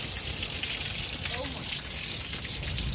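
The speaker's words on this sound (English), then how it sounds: "Y'all see all that rain?" Heavy storm rain pours outside a doorway in a steady, loud wash of hiss and gushing water, with a person talking over it.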